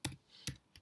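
Three quick, light keystrokes on a computer keyboard, close and quiet, spaced evenly apart in a silent room.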